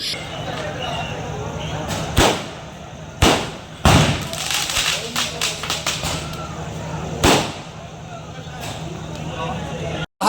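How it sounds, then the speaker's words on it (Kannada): Sharp firecracker bangs burst irregularly, several loud cracks spaced a second or two apart, amid crowd noise and chatter, as supporters celebrate a cooperative society election result in Turuvekere, Karnataka. "ಬೆಂಬಲಿಗರು ಪಟಾಕಿ ಸಿಡಿಸಿ ಸಿಹಿ ಹಂಚಿ ಸಂಭ್ರಮಿಸಿದರು"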